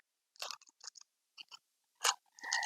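Soda crackers are crumbled by hand for a Depression-era pie in short, close, dry crunches and crackles that come in separate bursts with quiet gaps between them.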